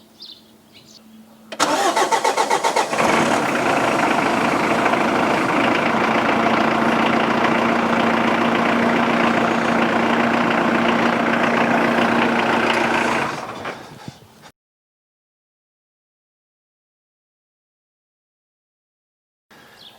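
A truck engine cranks and catches, then idles loudly and evenly for about ten seconds before cutting off into silence.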